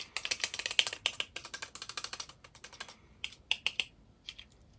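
Adhesive tape handled up close in a quiet room: a dense run of crisp crackles and snaps over the first three seconds, then sparser separate crinkles and peels, with no talking.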